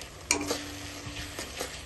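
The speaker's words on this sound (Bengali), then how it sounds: "টমেটোটা ভালো করে নাড়াচাড়া করে কিছুক্ষণের জন্য ঢাকা দিয়ে দেবো" Tomato pieces stirred with a utensil in a pan as they fry with onion, a faint sizzle broken by a few scraping clinks.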